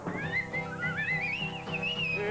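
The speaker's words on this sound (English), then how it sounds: "when he hits his thumb a lot, he whistles his little song" Someone whistles a little melodic tune, bright and gliding, over a steady rhythmic musical backing on a children's television show.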